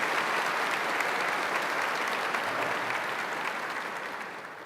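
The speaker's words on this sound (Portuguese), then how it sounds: "Podemos aplaudir o Santo Evangelho proclamado" A church congregation applauds after the Gospel reading at Mass, a dense, even wash of clapping that holds steady and then slowly fades toward the end.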